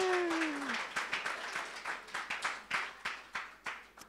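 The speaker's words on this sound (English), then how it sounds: "So big cheer for both of them." Church congregation at a Sunday service applauding an engaged couple, a brief burst of scattered hand clapping that thins out into a few separate claps.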